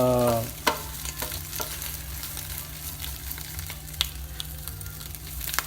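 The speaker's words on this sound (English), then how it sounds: "Saute this for 2 or 3 minutes on high heat, and then until they become spotted brown according to the recipe" Wild-caught shrimp sautéing in a pan on high heat, a continuous close sizzle with occasional stirring scrapes and taps of a utensil against the pan, with no talking.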